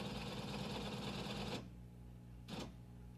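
An IBM 029 card punch from 1967 runs in a steady, rapid mechanical clatter while duplicating card columns, then stops abruptly, leaving a low hum broken by one short burst of punching near the end.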